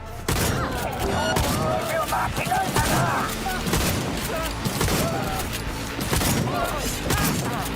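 Gunfire in the video game Cyberpunk 2077 crackles in dense, continuous volleys, with thumps and booms layered underneath and a loud, busy mix sustained throughout.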